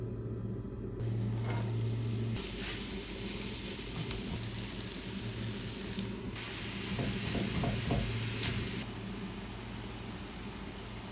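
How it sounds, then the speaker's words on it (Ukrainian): Chopped onion and minced meat fry in a pan for lasagna, giving a steady close sizzle with occasional stirring and scraping over a low background rumble. "Зараз закидаємо цибульку, обсмажуємо і закидаємо наш фарш."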